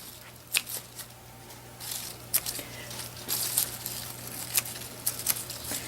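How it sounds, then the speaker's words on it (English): Microgreens are snipped at harvest time, giving soft, crisp cutting snips and rustling leaves in irregular bursts, faint and close over a low steady hum. "You want to just cut it where you can see some new growth coming again."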